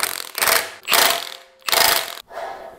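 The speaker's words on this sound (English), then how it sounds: "we're gonna torque this down till there's just a little bit of drag." A hand ratchet cranks down the pinion yoke nut on a Squarebody truck rear axle during a 3.73 gear and posi swap, giving three or four loud, close bursts of rapid clicking with short pauses between strokes.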